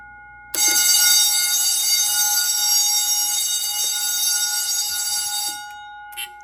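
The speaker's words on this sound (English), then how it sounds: "until we set off our general alarm" A loud electric fire alarm bell from a 1970s Edwards 6500 two-stage fire alarm control panel rings continuously for about five seconds, then cuts off, leaving a brief click afterward.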